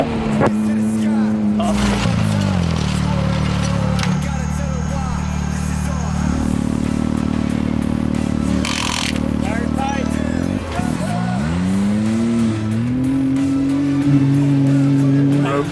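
An off-road race vehicle rumbles down the pit line at Baja Nevada, its loud engine droning and shifting pitch up and down, close, with radio voices talking over it.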